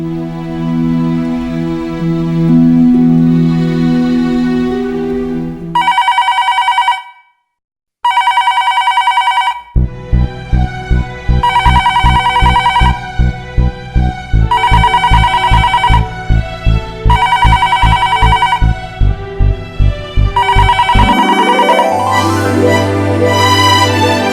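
A telephone rings in loud, repeated electronic bursts with short gaps between them, sounding alone without any talking.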